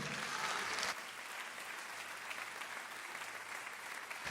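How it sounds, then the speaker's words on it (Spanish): A church congregation applauds at a sermon, with a louder burst of clapping at first settling into steady, even applause from many hands. "Dale fuerte el aplauso a Dios"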